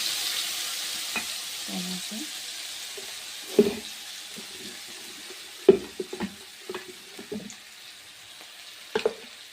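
A ground paste of ginger, cumin, green chili, tomato and garam masala sautéing for veg biryani, a steady low sizzle under scattered stirring scrapes and light clinks of a spoon against the pan.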